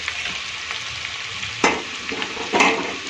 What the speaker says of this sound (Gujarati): આપણે બીજી ફ્રેન્ચ ફ્રાઈઝને પણ આની અંદર એડ કરી અને ફ્રાય થવા દઈશું.